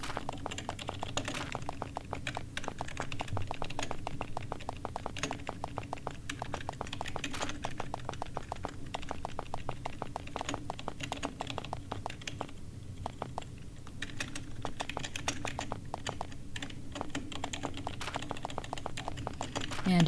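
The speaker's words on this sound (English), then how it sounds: "enjoy some keyboard ASMR while I wander around here" Computer keyboard typing in quick irregular bursts of close, crisp key clicks, continuous for about twenty seconds with brief pauses, with a voice talking over it at times.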